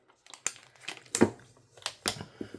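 Paper crinkling and crumpling in several short, crisp bursts with brief pauses between, close by and fairly loud.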